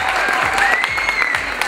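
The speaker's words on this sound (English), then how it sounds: "Clap your hands for USA." Crowd applause at a banquet party dance contest, a dense steady wash of clapping from many hands with cheering voices and a sustained whistle-like tone over it, loud throughout.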